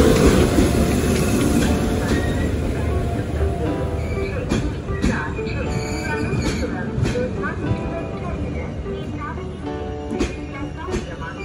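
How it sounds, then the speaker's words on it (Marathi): Netravathi Express pulling into Kudal station on the Konkan Railway, a continuous loud rumble of rolling wagons with rhythmic wheel clatter and brief squeals, heard up close for the whole stretch. "शेवट 6:45 वाजता उजवाडल्यानंतर गाडी इली आमची"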